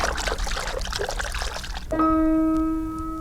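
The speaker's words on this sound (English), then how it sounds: "I'll just wash my hands with running water under the faucet" Running water from a faucet pours steadily over hands being washed, a close continuous splash that is cut off partway by a sustained ringing chime.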